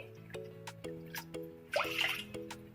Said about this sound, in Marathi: एक वाटी आपली डाळ आहे तर चार वाटी पाणी टाकू डाळ शिजवण्यासाठी